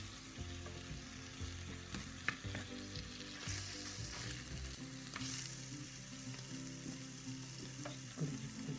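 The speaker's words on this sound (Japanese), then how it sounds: "ニンニクもだからこうやってでもカリカリになったらもうあのフライパンから上げて" Garlic fries in a frying pan over gentle heat, giving a steady, dense, close crackling sizzle with a few light clicks from the pan, and no voices.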